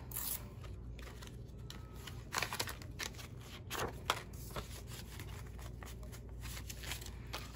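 Paper cash bills handled and slid into a paper envelope, soft close rustling and flicking in a quiet room, with a few louder crinkles and no talking.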